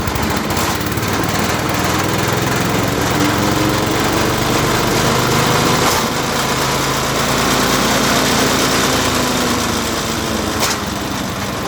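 A small engine-driven branch crusher roars steadily and loudly, its motor churning without a break for the whole stretch.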